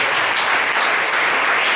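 Church congregation applauding during a Sunday service, a steady, dense wash of clapping that holds evenly for a couple of seconds with no voices on top.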